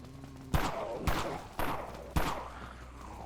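Four sharp pistol shots in the video game Dead Frontier, spaced about half a second apart, each a loud crack with a short decaying tail. No one talks.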